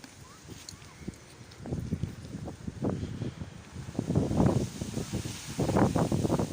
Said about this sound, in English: As I say, it's a bit windy,